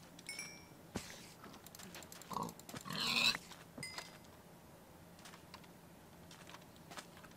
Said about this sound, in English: That piggy got away.